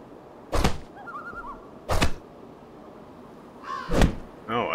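Crows caw in an island survival video game, two or three loud, harsh calls spaced a second or so apart over a steady outdoor ambience, with a fainter bird chirp in between.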